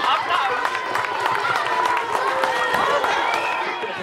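A crowd applauds and cheers after a ribbon is cut at a school project opening, loud mixed clapping under lively chatter and excited voices, with some whistle-like tones rising above the noise.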